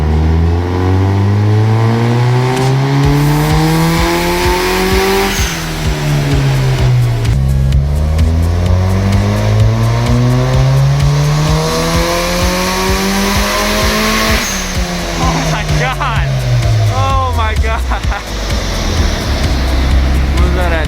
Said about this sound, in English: They should be starting up the car here and getting tuning.